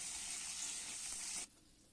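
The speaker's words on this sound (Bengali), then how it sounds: "মিষ্টি কুমড়োটাকেও নেড়ে চেড়ে লালচে করে ভেজে তুলে নেব।" Pumpkin pieces fry in oil with a bright, steady sizzle that cuts off abruptly after about a second and a half, leaving quiet room tone.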